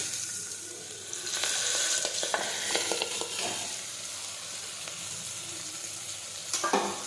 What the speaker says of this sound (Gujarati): હવે આપણે તેમાં રાઈ અને જીરું નાખી દઈશું હિંગ નાખીશું સમારેલી સોળી નાખીશું